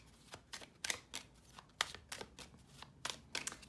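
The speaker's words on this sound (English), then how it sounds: "let's do the shuffle" Tarot cards being shuffled by hand, a quiet, close series of crisp riffling bursts in an uneven rhythm with no talking.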